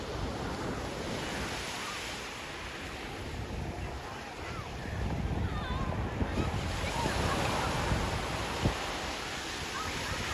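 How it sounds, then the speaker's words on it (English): A steady sea breeze buffets the microphone at Coney Island beach, with a constant roar of wind and surf that swells midway, plus a few faint bumps. "little easterly component to that last breeze right there"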